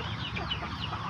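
Free-range hens cluck in a pen in the late afternoon, a steady close murmur of clucking that runs on without pause.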